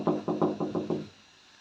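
A parrot mimics a knock on a door with six quick, evenly spaced, hollow raps, close and fairly loud, followed by quiet.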